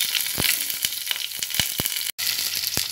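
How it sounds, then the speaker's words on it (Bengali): Cut pointed gourd (potol) pieces frying in hot oil, with a loud, continuous close sizzle broken by sharp spatula clicks and scrapes and one brief dropout, no voices. "এবার আমি কেটে রাখা পটলগুলো এর মধ্যে দিয়ে নিচ্ছি, এক এক করে লাল লাল করে একটু ভেজে নেব।"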